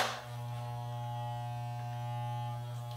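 Electric hair clippers fitted with a number 4 half-inch guide comb trim a beard, a steady close buzzing hum with a fixed tone that barely changes over a few seconds.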